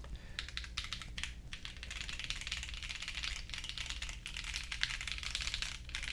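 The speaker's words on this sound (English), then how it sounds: "So tactile typing switches and a little bit of bounce to the keyboard as well." Typing on a OnePlus Keyboard 81 Pro with tactile switches: a fast, steady stream of close, crisp key clicks and clacks with slight bounce, continuing without pause and with no voices.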